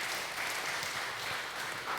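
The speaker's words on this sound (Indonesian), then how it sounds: "Tepuk tangan untuk kita semua." A crowd claps together in sustained applause at the close of a seminar, a dense even patter of many hands with no voices standing out.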